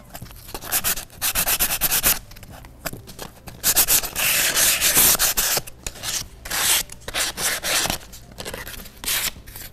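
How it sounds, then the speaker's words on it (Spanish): Sandpaper sanding rough spots on a recycled nativity scene, close and loud rasping strokes in an irregular back-and-forth rhythm with brief pauses, no voices. "entonces yo paso la lija"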